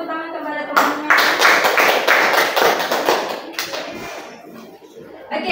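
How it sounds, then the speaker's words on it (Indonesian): Students in a classroom break into applause for their classmates, a burst of quick, close hand claps that starts after a brief pause and keeps going steadily before thinning out toward the end. "Berikan tepuk tangan kepada teman-teman."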